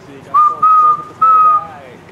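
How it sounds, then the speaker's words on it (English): A whistle sounds in a college football video game: three steady, shrill tones, the first short and the next two longer, loud over faint background voices. "Blow the whistle."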